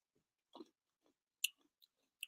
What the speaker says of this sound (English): I'm gonna enjoy crispy, crunchy cookie